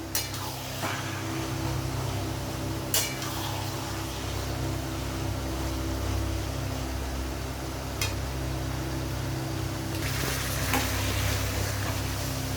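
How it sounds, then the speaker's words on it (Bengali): Chopped taro leaves (kachu shak) with torn green chillies frying and being stirred in a pan, a steady close sizzle with occasional sharp scrapes and knocks of the spoon against the pan. "ভালো করে মাঝে মাঝে নেড়ে নিতে হবে নাড়ে নিচে লেগে যাবে"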